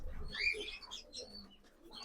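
Old pigeons in a loft coo softly and continuously, fairly near, with faint chirpy overtones and no talking.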